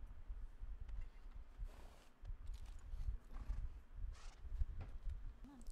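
A horse's hooves clip-clop in the video game The Last of Us Part II. The soft, uneven thuds of its walking pace sound faint and somewhat distant against a low background rumble.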